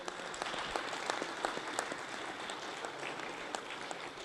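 An audience applauds at the inauguration ceremony of the 28th CSPOC 2026, a Commonwealth parliamentary speakers' conference, welcoming the new chair. The dense, steady clapping from a large hall holds even throughout, with no talk over it.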